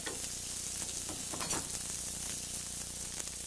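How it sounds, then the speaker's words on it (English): A steak sizzles in a hot pan with no added fat, cooking in its own rendered fat, as a continuous moderate crackle and hiss with no talking. "now while it's cooking, no fat. The fat from around the steak is going to be just enough to cook it."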